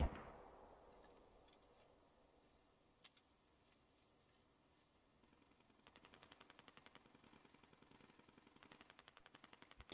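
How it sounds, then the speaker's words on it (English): Faint, distant bursts of automatic gunfire in the shooter game Squad rattle in the background through fog, a few scattered shots early, then sustained rapid fire toward the end. "A lot of gunfire to our northeast."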